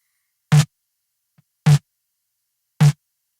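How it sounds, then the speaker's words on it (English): Three evenly spaced, hard snare drum hits through a small diaphragm condenser with the preamp pushed into heavy distortion, each a short, gritty, aggressive crack with silence between, no voices. "the small diaphragm condenser that's really blown up at the preamp sounds like this"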